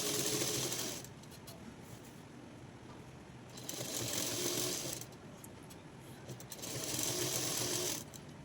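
A sewing machine stitches a falls border onto a saree in three close bursts of rapid, even mechanical whirring, with quieter pauses between them and no speech.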